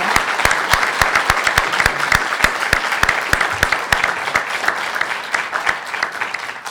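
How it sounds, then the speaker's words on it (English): An audience claps steadily, a warm wash of applause with sharp individual claps standing out throughout. "How about a round of applause for Frank?"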